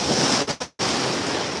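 Ocean waves breaking at Del Mar beach near San Diego, a loud, close, continuous rush of surf with wind buffeting the microphone and a brief dropout before the roar resumes.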